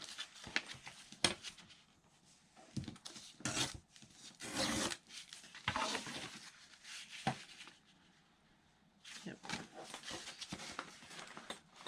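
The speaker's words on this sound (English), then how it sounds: "I think I'm going to tear the top of it off" A paper page from a junk journal is torn along its top in several rough, rasping rips separated by short pauses, with soft handling rustles between them and no voices.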